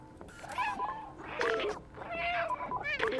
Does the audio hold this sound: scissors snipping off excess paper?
no